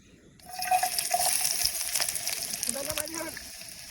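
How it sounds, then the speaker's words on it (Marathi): Sliced onion dropped into hot oil in a pan outdoors, a sudden sizzling hiss that starts abruptly and keeps crackling, with someone talking nearby. "तेल टाकलेला आधी आपण, आता कांदा टाकतोय"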